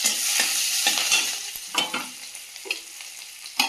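Chopped onion, whole cumin and bay leaves fry in hot oil in a home kitchen after cauliflower has been fried, giving a constant close sizzle broken by repeated scraping stir strokes.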